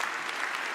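Continuous dense applause from an audience at a Sunday gathering, a brief full-sounding burst of many hands clapping with no pause.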